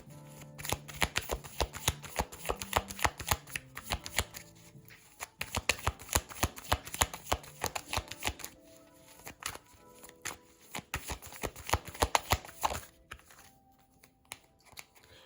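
Playing cards are shuffled and drawn for a tarot-style card reading, with dense, rapid riffling and flicking runs in close bursts that pause briefly and then resume, continuing steadily for about thirteen seconds before easing off.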